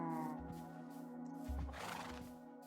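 A Minecraft horse gives a whinnying neigh, a harmonic, wavering call with low thumps underneath, rising in intensity toward the middle before fading.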